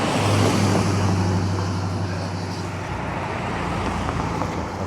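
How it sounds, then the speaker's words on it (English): A car passes on a snowy, unplowed residential street, a steady broadband rumble of tires and engine holding fairly loud and close through the clip, fading slightly toward the end. "Car coming."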